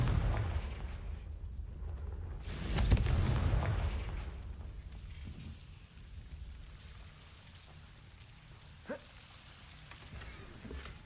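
A Confringo fire spell in Hogwarts Legacy bursts with a loud explosive boom, followed by a rumbling, crackling decay that fades over several seconds, with a small thud later, and no talking.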